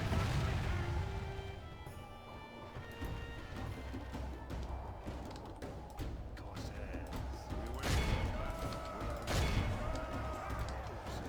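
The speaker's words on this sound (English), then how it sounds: "the crossbows are firing now as well" Crossbows firing in a video game battle at Isengard, a dense stream of thuds and cracks over a rumbling clash, with two sharp louder impacts near the end.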